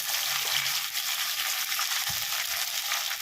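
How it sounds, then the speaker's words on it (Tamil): Chopped chayote, tomato, onion, garlic and tamarind sauté together in a hot pan, giving a steady, close sizzle with a few soft stirring knocks. "இப்போது இது சவு தக்காளி, வெங்காயம், பூண்டு, புளி எல்லாம் ஒன்றா போட்டு நம்ம வதக்கிடுவோம்"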